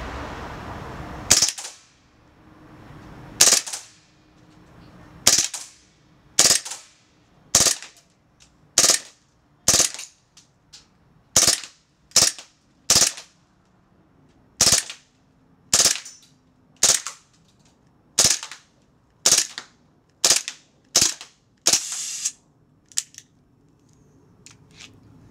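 An airsoft M9 pistol modified for full-auto fire with a 50-round magazine gives about twenty sharp, close snapping shots spaced unevenly over the span, with brief quiet gaps between them.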